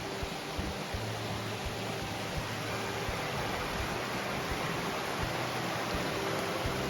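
Falls Creek in Pennsylvania flows beneath a trail footbridge as a steady, loud, unbroken rush of water that fills the whole stretch, with no voices.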